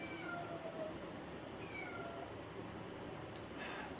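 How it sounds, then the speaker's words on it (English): A cat meows several times in quick, drawn-out cries, faint and slightly distant over a low steady background hum, with no talking. "Dumb cat."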